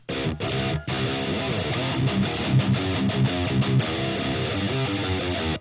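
Distorted electric guitar chords play loudly with a harsh, fizzy tone through a faulty cabinet impulse loader in a DAW, broken by a couple of brief gaps early on.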